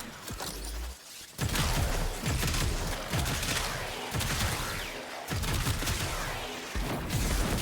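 Weapon fire in the video game Warframe comes as dense, rapid bursts of crackling shots with booming impacts, broken by two brief lulls, loud and continuous throughout.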